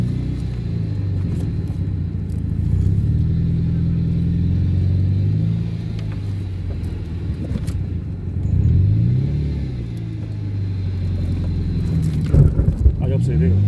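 A heavily loaded, low-riding Ford car crosses a tall speed bump on a town street, its engine rumbling low and steady with a surge of revving partway through, while people talk over it.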